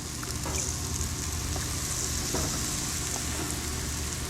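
Carrots frying in olive oil in a pan, a steady close crackling sizzle that runs on evenly with scattered small pops and no voices.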